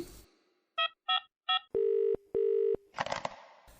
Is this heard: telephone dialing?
yes